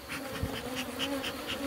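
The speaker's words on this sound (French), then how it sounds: "Pourtant, il y a quand même pas mal d'abeilles." Honeybees swarm around an opened beehive, filling the air with a steady, close, dense buzz that pulses slightly but never breaks, with no voices over it.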